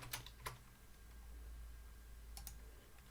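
Keys clicking on a computer keyboard as a Shift F7 shortcut is entered: a couple of quick taps near the start and another pair near the end, with a quiet hum in between.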